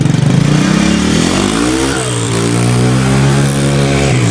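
A Suzuki three-wheeler ATV engine is held on the throttle and revs loudly and steadily, its pitch wavering slightly as the motor runs close by without pause.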